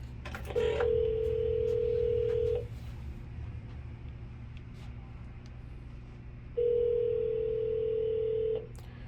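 Payphone call tone: two long, steady electronic tones, each about two seconds, separated by a gap of several seconds, heard close over a low background hum.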